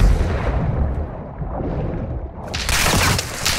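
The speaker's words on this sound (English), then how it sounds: "Why do they have to shoot at me?" Gunfire and explosive bursts in Call of Duty DMZ, a dense rumbling barrage that swells into a brighter, louder crackle of shots near the end, with no talking.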